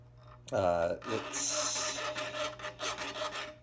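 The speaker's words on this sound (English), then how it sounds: "I got a little burr on this, so I'm just going to file it." A hand file rasps a burr off a metal race adapter for a 1935 Oldsmobile front axle, a few scraping strokes close up, with a voice briefly at the start.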